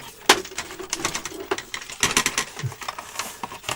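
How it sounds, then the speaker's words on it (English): Loose parts rattle and clatter inside a 1983 Philips Video 2000 VR2220 portable video recorder. The taps come in short, irregular bursts, close by and fairly loud, as the unit is moved. "I can hear something rattling around."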